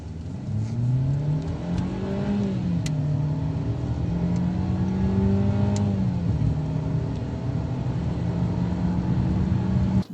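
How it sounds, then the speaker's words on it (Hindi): A 2018 Mercedes-Benz C180 accelerates hard from a standstill in its standard driving mode, the engine note climbing through several gears with brief dips at each shift, loud and steady from inside the cabin. "तो अब 0 to 100 आपको चेक कराएंगे जी इस गाड़ी का।"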